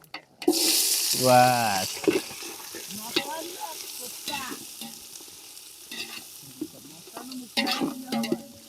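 Village-style mutton curry sautéing in a pan with onions and whole spices, loud close sizzling and frying with spoon stirs and scrapes, and people talking intermittently over it.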